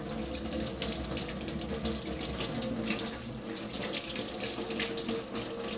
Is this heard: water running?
yes